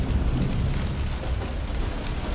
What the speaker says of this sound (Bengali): হঠাৎ আকাশ থেকে নেমে এলো ঝমঝমিয়ে বৃষ্টি